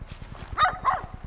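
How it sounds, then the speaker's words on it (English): Two quick dog barks ring out close together over a steady rhythmic thumping, moderately loud. "I wonder what kind of barking he'd do if Mandy was here."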